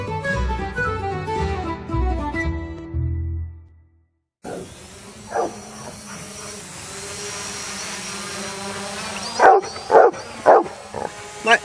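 Music fades into a steady droning whine from a hovering drone, and near the end a dog lets out several loud, close barks at it in a quick burst.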